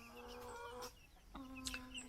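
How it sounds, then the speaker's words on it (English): Young Cream Legbar chicks peep in high, thin chirps on a smallholding, several short calls in quick succession at low volume. "some cream leg bar chicks."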